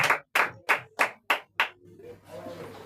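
Congregation in a church service applauding: six sharp, rhythmic bursts of clapping, then a softer, fading patter as the applause trails off.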